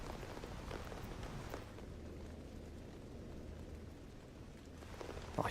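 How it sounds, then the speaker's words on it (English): Mild rain in the survival game GAMMA, a steady, soft broadband patter with a faint low hum beneath, continuous and even over several seconds with no voices. "It's like a light downpour in England."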